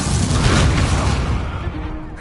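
An Incendio fire spell is cast in the video game Hogwarts Legacy, a loud, dense burst of fiery rumble and whoosh that fades slowly over about two seconds.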